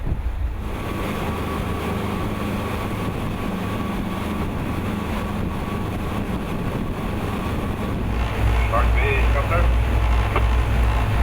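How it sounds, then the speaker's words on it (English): A motor cruiser's engine drones steadily as the boat approaches a harbour entrance on a coastal trip from Inverness to Scrabster, a constant low rumble mixed with wind buffeting the microphone, growing slightly louder toward the end. "We're a motor cruiser. We're just approaching the harbour entrance."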